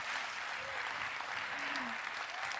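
A studio audience at a televised post-debate show for the fourth 2024 Indonesian vice-presidential debate applauds, a dense, steady clapping that runs unbroken for a few seconds.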